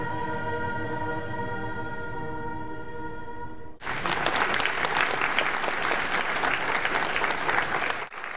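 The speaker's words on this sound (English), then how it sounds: "all of the performing students received a standing ovation by the crowd to show their support" A concert crowd gives the performing students a standing ovation, loud, dense clapping bursting in suddenly after a sustained musical tone and continuing steadily for several seconds.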